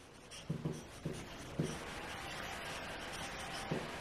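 A pen scratches out a maths solution on paper in a short run of quick strokes and scribbles, close and fairly quiet, with no talking.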